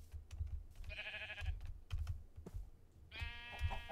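Minecraft sheep bleat twice in a video game, two wavering nasal bleats a couple of seconds apart, over steady keyboard clicking and low thumps of play.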